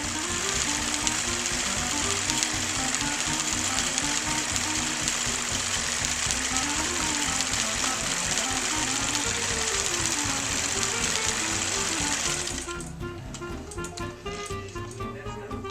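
A quilting machine runs steadily while it stitches wiggle lines across a king-size quilt, giving a continuous mechanical whir with a fast, even stitching rhythm. It softens slightly near the end.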